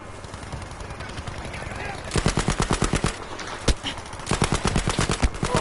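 Automatic gunfire in the video game Battlefield 5 rattles in rapid, loud bursts that grow denser after a quieter opening, and a voice talks over the shooting.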